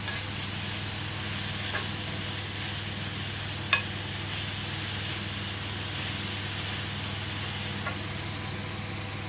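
Carrots and onions fry in a pan with a steady, even sizzle and hiss, close and continuous, broken by a few faint clicks of stirring.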